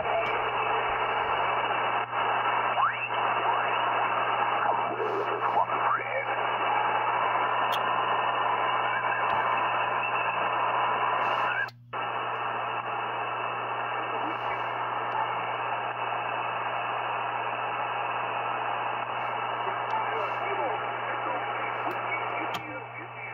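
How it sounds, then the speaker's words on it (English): Radio interference noise comes in on an end-fed half-wave antenna with a 49:1 transformer as a steady, loud static hiss carrying a faint whine, broken only by one brief dropout midway. "It's got some kind of interference coming in there."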